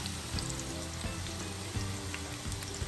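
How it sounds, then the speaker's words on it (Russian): Onion and carrot frying in oil in a pan, a soft continuous sizzle with faint crackling pops, steady and moderately quiet with no voices. "И на этом масле обжариваем лук и морковку."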